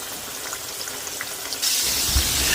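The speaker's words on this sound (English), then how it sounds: "Get a good little crisp, good little fry, nice little hot oil treatment." Steady crackling sizzle of a pork chop frying in hot oil, continuous and close, growing a bit louder and denser partway through.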